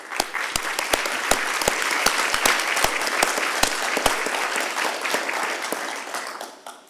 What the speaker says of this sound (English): they all deserve, first of all, before we go, a round of applause for what they do every day